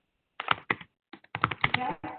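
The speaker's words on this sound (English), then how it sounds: "whoever is typing there, sorry" Computer keyboard typing picked up on an open microphone during a virtual conference call, a quick burst of clicks, a pause, then a longer run of close key taps.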